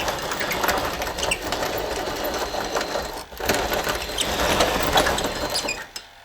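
A DIY radio-controlled Caterpillar D6 hydraulic dozer model runs with a steady, buzzing electric whir and mechanical rattle, close and continuous, with a brief dip in the middle before it picks up again.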